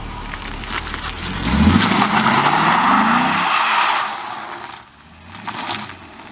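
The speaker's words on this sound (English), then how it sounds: "this car is absolutely fun to drive. I don't care what you say. Like, I can show you right now." Chevrolet C6 Corvette accelerating hard, a loud engine roar rising in pitch through a gear, easing off, then pulling again near the end, with tire squeal mixed in.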